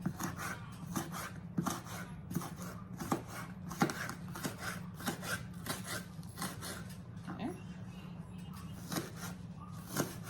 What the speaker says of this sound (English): go ahead and get this part of the onion cut up